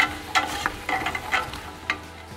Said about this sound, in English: So I'm going to add in all my veg. Give that a good stir up